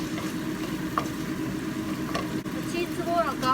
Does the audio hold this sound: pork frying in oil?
yes